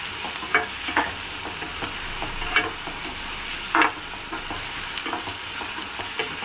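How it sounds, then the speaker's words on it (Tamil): Onions and curry leaves sauté in hot oil for mutton curry, a steady sizzle broken by scattered scrapes and clinks of a spatula stirring the pan. "நல்லா கொஞ்சம் சவக்க வதக்குங்க வெங்காயத்தை"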